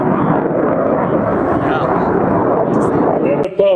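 An aircraft coming in on a short approach at the Jeffco airshow in Broomfield, Colorado, a broad steady engine roar heard under a public-address announcer talking throughout.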